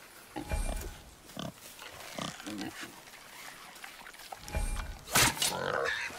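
Deep, rough grunting and snorting from a boar in God of War, loud and close, mixed with people talking throughout.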